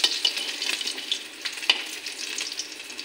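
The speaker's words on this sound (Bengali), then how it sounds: "পটল আর কারকল ভাজা হয়ে গেছে" Pointed gourd and bitter gourd frying in oil, a bright continuous sizzle with crackling pops and occasional stirring clinks, close and fairly loud with no talking.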